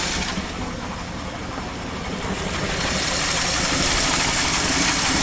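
A 1959 Mercury Monterey V8, long dormant and not yet fully warmed up, runs at a steady idle close by, a continuous low rumble with a slight possible exhaust leak, no voices.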